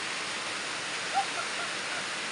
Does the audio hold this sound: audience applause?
no